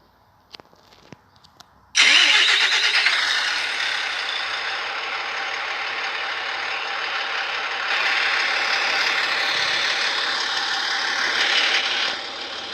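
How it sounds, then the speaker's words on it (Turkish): After a few clicks, a Mercedes Travego bus engine starts with a sudden, very loud roar and keeps running loudly and steadily, revving slightly partway through. "Yalnız araçın sesi çok yüksek bir bu konuda sıkıntısı var."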